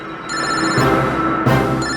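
A telephone rings indoors: two bright electronic ringing bursts in quick succession, clear and fairly loud, with no talking over them.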